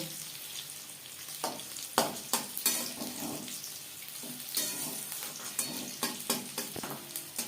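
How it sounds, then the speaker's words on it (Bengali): Onion rings frying in hot oil over a medium flame, a steady close sizzle broken by irregular sharp clinks and scrapes as the rings are stirred and flipped to crisp. "হাই ফ্লেমে তেল আমি গরম করে নিয়েছিলাম ভাজবো মিডিয়াম ফ্লেমে উল্টে পাল্টে ক্রিস্পি করে"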